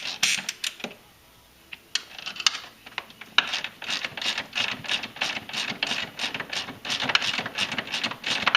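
Ratchet removing 10 mm bumper bolts, rapid close clicking of the pawl in quick repeated strokes, with a brief pause near the start before a long steady run of clicks.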